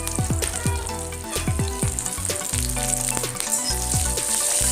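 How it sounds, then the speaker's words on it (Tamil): Dried red chillies and curry leaves frying in hot oil for a Chettinad kootu tempering, a dense close crackle and hiss with bursts of sputtering pops throughout and no voices. "ஸோ இது நல்லா கலர் ஒரு மாதிரி நல்லா ரோஸ்ட் ஆகும்போதே நம்ம கருவேப்பிலையும் இதில் ஆட் பண்ணிக்கலாம்"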